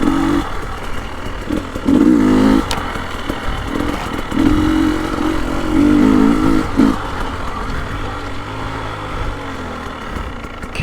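KTM 300 XCW Erzberg two-stroke dirt bike revving and accelerating nearby, engine note rising and dipping through a short shift into third, then pulling steadily, with continuous loud engine drone throughout.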